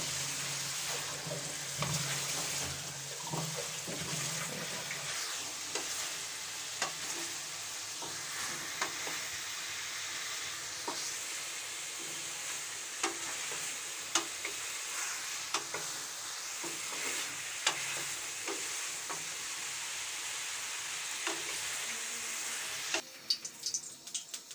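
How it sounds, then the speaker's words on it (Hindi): Chicken frying in oil in a karahi for white chicken karahi, a steady close hiss and sizzle with occasional stirring clatter throughout, no voices. "चिकन को हमने बहुत ही अच्छी तरह से फ्राई करना है।"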